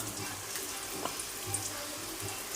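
Sliced onions sizzle in hot oil in a pan for Malaysian sambal tumis telur burung, a steady, close frying hiss with small crackles running the whole time.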